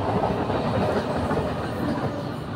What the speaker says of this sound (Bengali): এই যে আমাদের ট্রেন যাচ্ছে আমাদের রুটের পাশ দিয়ে